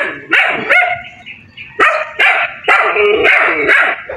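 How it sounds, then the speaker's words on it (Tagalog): Several dogs bark in repeated loud, close bursts with short gaps, some yips mixed in, heard outdoors at a house visit. "Diyos ko, daming aso."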